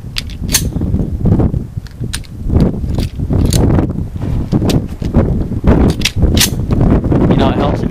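Shots from a Springfield V10 Ultra Compact 1911 pistol in .45 ACP at a shooting range ring out as a series of sharp, loud cracks at irregular intervals, with gusty wind noise and some talk in between.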